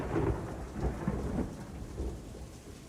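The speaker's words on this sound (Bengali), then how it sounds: "এবার যেন বাড়ির খুব কাছেই বাজ পড়ল" Rumbling thunder with steady rain behind it, a low rolling boom swelling in several waves across a short stretch, set as a storm effect in a Bengali audiobook.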